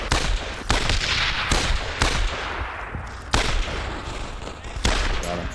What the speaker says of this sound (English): So somebody shooting you to the right.